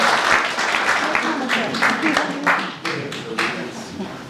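Applause from a small gathering at a town medal ceremony, a moderate patter of clapping with a few louder claps, mixed with voices talking over it throughout.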